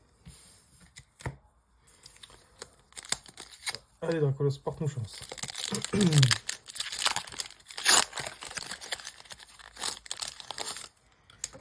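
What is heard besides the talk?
paper packaging crinkling while opening Pokemon card packs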